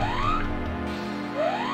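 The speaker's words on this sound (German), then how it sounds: "Na toll, er hat den Alarm ausgelöst." Rising electronic alarm sweeps repeat twice over steady game background music in Pokémon FireRed, a looping whoop at moderate volume with no talking.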